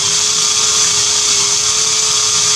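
A drill bores out a stripped Torx bolt on a Harley Sportster derby cover, slow with oil, giving a steady high whine with a constant tone, close and continuous throughout.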